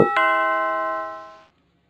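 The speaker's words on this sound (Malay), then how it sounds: "Somebody is ringing the bell." A doorbell in the video game Babysitter Bloodbath rings once with a sharp electronic chime that rings out clearly and fades over about a second and a half, alone.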